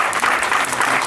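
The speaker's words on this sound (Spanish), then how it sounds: "Un aplauso para ellos, de verdad," A brief burst of steady clapping from an audience at an esports talk event, dense and fairly loud, with no voices over it.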